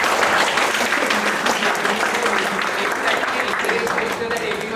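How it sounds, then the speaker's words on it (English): A round of applause for team leaders at a student induction ceremony, a dense, steady wash of many hands clapping throughout, full and close with no gaps. "I think round of applause to all team leaders,"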